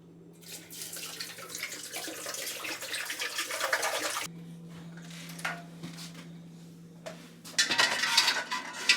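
Hottish water pours and splashes into a big pressure canner about three inches deep, a continuous rushing flow with a brief pause and metallic pot clatter, close and moderately loud.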